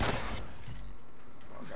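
Pistol gunfire in a video game: a couple of sharp, punchy shots land in the first second, then fade into a low hum, with a voice faintly present underneath.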